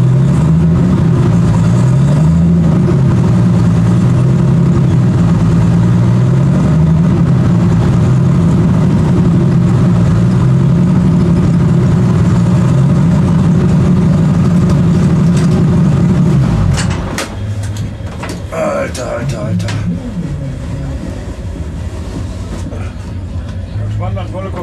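A race car idles with a deep, steady, throbbing engine at a German street race event, then the note changes as it pulls away and rolls to a parking spot, loud and close throughout.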